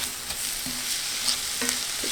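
Onions sautéing in a pan with salt for meatloaf, a steady close sizzle with occasional stirring scrapes, no voices.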